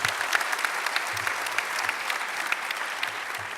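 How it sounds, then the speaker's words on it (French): A general assembly audience gives Marc Boissé a round of applause, a continuous dense crackle of many hands clapping at an even level. "Applaudissements pour M. Marc Boissé."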